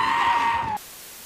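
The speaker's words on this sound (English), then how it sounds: "for Taika, it all started with a screaming goat" Screaming goat from Thor: Love and Thunder, a single loud sustained shrill scream lasting under a second before cutting off abruptly.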